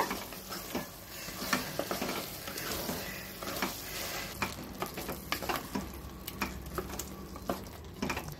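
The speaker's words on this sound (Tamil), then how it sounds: "இப்போ இந்த பேஸ்டையும் நல்லா சேர்த்து வதக்கி விட்டுக்கோங்க" A spoon scrapes and stirs a thick spice paste for chicken salna in a hot pan, with repeated clicking strokes over a gentle, steady sizzle.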